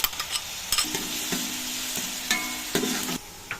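Onions sizzle in hot oil while a spoon scrapes and stirs the pan in irregular strokes, close up with no talking, while making Punjabi-style kadhi pakora.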